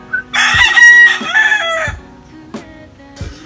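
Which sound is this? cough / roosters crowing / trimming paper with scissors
roosters crowing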